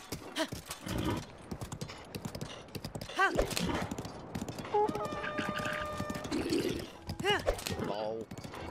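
Horse hooves clip-clop in Zelda: Breath of the Wild, with a few whinnies and neighs breaking through at intervals over a steady ambient bed, while someone talks across most of it.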